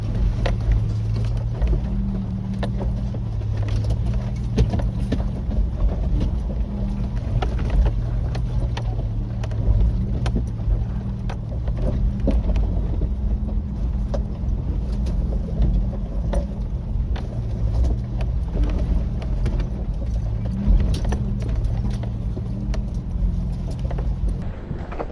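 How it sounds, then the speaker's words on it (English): A car crawls slowly over a lumpy, rocky track in the Flinders Ranges, with a steady low engine drone, rumbling bumps and wind buffeting throughout, no voices. "Let the car sort of work its way over these obstacles."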